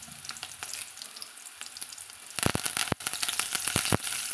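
Small shallots and curry leaves drop into hot oil for an okra kuzhambu, and a quiet simmering hiss turns into a loud, crackling sizzle with stirring scrapes.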